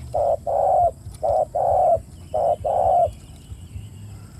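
Spotted dove heard during decoy dove trapping, giving three paired coo phrases, each short note followed by a longer one, clear and fairly close over a low thumping background beat.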